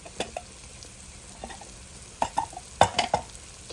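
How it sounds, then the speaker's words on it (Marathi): Faint, quiet sizzle of spice masala frying in a pan for rajma, broken by a few scraping, clinking stirs of a spoon against metal; no talking. "थोडा मसाला परतायला चालू आहे"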